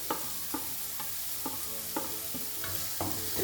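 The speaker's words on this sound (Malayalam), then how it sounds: "നന്നായിട്ട് മിക്സ് ചെയ്ത് ഈ പൊടിയുടെയൊക്കെ പച്ചമണം മാറുന്ന വരെ ഒന്ന് വഴറ്റിയെടുക്കണം." Spices such as turmeric, chilli, coriander and masala powders are sautéed in a hot pan for kothu idiyappam, a constant close sizzle punctuated by regular scraping strokes of a spatula roughly every half second, with no talking.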